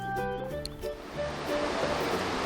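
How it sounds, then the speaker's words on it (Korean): Mountain stream in early spring on a trail near snowy peaks, a soft continuous rush of flowing water mixed with melodic tones and faint background sounds. "내려오는 길에 물소리가 너무 좋아서 정말 봄을 재촉하듯이 흐르고 있습니다."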